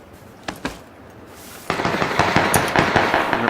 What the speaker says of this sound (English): I heard shots behind us.